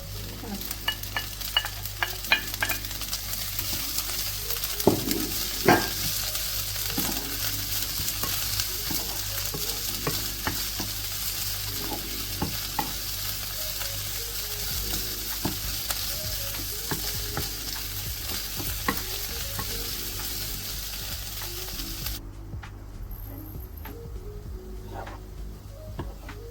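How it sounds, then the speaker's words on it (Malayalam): Sweet corn frying in a pan with lime juice, a continuous close sizzle broken by repeated scraping and tapping as a spoon stirs the kernels. "ശേഷം നമ്മുടെ സ്വീറ്റ് കോൺ ആഡ് ചെയ്ത് നന്നായി ഇളക്കുക."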